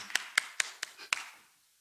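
A few hands clap together at an online Methodist church service, five or six sharp, distinct claps in a quick, slightly uneven sequence that die away into quiet, heard close up and alone.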